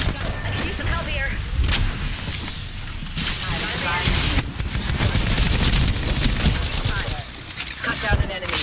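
Sustained loud gunfire in a shooter video game, a continuous chattering barrage with scattered heavier bangs, mixed with in-game character voice lines and busy battle noise.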